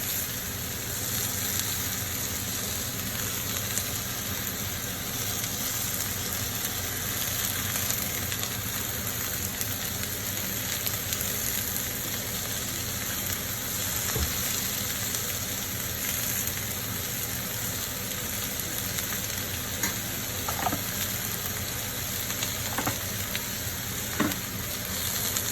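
Green onions sizzle and fry in a hot pan alongside seared spiced barramundi fish with tomatoes and lemon, a steady close crackling hiss with occasional stirring clicks.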